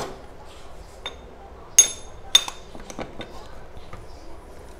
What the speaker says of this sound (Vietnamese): Để mình gắn cái mũi đục cho.